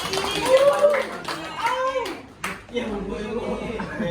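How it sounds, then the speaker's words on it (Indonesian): A class of children claps for a classmate who has recited a poem during a school lesson, with brief uneven clapping while a teacher and children talk over it. "Tepuk tangan lah dulu, Suwanti."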